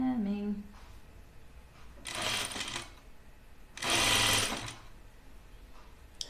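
A sewing machine hems a knit Kielo wrap dress in two sustained bursts of stitching, each lasting about a second, with quieter handling in between. The sound is moderately close.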